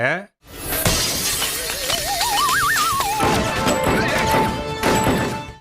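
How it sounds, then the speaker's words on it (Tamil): A glass window shatters during a fight scene in a film, a loud crash of breaking glass followed by dense, busy action sound with a rising, wavering tone over it. "இந்த மென்டல் கண்ணாடியை உடைச்சிட்டு வந்து டைரக்டா கீழே இருக்கக்கூடிய ஸ்விம்மிங் பூல்ல போய் விழுவான்"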